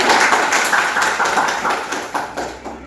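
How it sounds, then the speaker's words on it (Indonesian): A class of students claps together in a steady burst of applause, loud and close, lasting the whole moment before tapering slightly. "Tepuk tangan buat kita semua."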